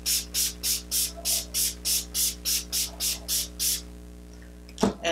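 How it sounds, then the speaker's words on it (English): Twelve quick, evenly spaced hisses of a face spray mister, close and crisp, followed by a brief rustle. "let me spray my face"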